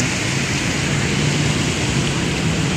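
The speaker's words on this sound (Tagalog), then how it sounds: "Lakas ang ulan, no?" Heavy typhoon rain pours down on a flooded city street by a bridge, a loud, steady, unbroken wash of noise with no gaps and no voices heard.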